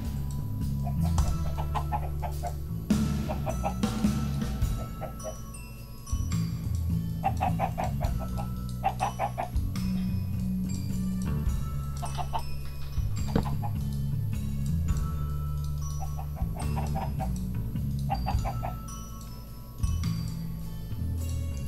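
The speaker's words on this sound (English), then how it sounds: "It's a whole lot of chickens though." Many chickens in Minecraft clucking repeatedly over about twenty seconds, short bursts of clucks from several birds overlapping at a steady, close level above a continuous low background tone.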